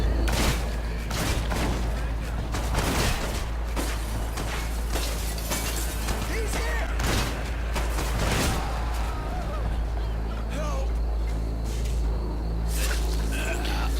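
Bursts of rapid gunfire and sharp shots crack repeatedly in the video game Hatred over a constant low hum, with a voice talking underneath.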